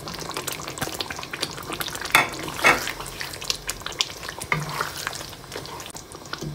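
Green chilies and chicken sizzling in a hot pan, with steady frying hiss broken by a few sharp stirring scrapes of a spoon against the metal, no talking.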